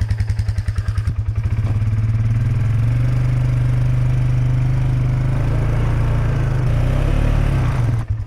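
An ATV engine towing a log splitter chugs in rapid pulses at first, then revs into a steady, loud, close drone with a clattering mechanical edge, dropping off at the very end.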